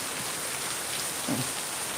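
Rain falling outside a house, seen from under the eaves: a steady, soft, dense hiss of drops on surfaces, fairly faint and even throughout, with no talk.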